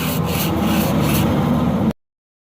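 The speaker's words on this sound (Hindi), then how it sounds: "तो अभी यहाँ पे हमने रेगमाल लगाना है" Sandpaper rubs briskly back and forth over a diesel engine crankshaft from a Hino engine, a close, harsh scraping that runs continuously for a couple of seconds before stopping abruptly.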